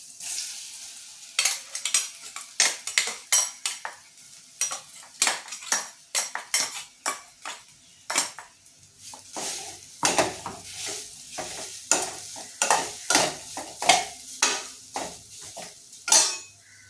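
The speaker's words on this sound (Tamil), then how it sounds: "முந்திரி பருப்பு செவந்துருச்சு. இப்போ மிக்சியில் அரைச்சோம்ல அந்த பாசி பருப்பை இதில் போட்டுக்குவோம்." Ground moong dal goes into a pan of fried cashews and is stirred, giving a steady run of sharp ladle scrapes and clinks against the metal pan, close and fairly loud, with light sizzling and no talk.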